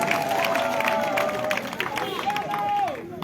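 A crowd at a political rally in Zikiso claps and cheers amid loud, overlapping voices. The noise is close and continuous throughout.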